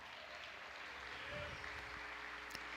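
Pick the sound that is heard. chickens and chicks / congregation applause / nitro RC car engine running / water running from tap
congregation applause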